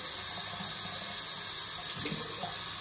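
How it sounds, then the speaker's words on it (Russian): Tap water runs steadily into a bathroom sink or tub while the room is being cleaned, a continuous close hiss and splash with no break and no voices. "Так, добавим воду."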